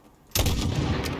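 A single sharp rifle shot at a target in Call of Duty, its loud crack followed by a rolling boom that trails off over about a second after a quiet lead-in.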